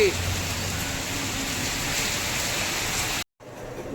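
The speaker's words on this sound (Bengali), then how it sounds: "হাওয়া দিচ্ছে আর বৃষ্টি পড়ছে" Steady rain hisses with a windy rush underneath, close and fairly loud, then cuts off abruptly near the end.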